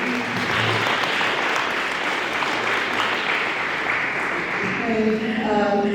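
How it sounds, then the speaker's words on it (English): Crowd at an awards event gives students a long, loud round of applause, dense clapping throughout with faint voices mixed in toward the end. "I want to ask everyone to give them another round of applause."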